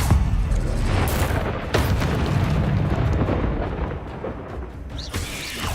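Blasting spell explosions from the Hogwarts Legacy video game, several booming bursts and pops in quick succession over a dense, rumbling game soundscape of loud combat noise.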